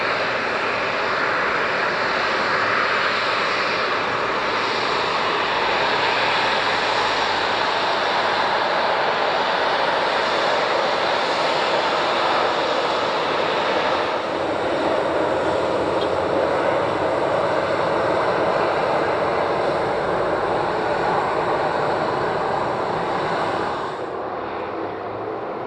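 A jet airliner takes off at Madeira Airport, a loud, steady roar of engines sustained throughout, nearby and continuous with no talk over it.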